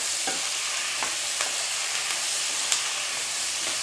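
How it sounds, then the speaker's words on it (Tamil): Chopped tomatoes and onion for chutney sauté in a hot pan with a constant close sizzle and hiss, punctuated by several light stirring scrapes, no voices. "நல்லா வதக்கி விடுங்கம்மா"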